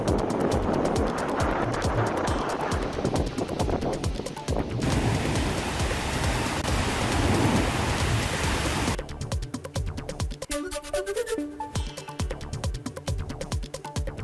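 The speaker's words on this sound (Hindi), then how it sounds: "तेज हवाओं के साथ हो रही है बारिश।" Heavy cyclone-driven rain and strong winds lash the coastal Kakinada district of Andhra Pradesh, a loud continuous roar of rushing noise that shifts in texture partway through, with no talk.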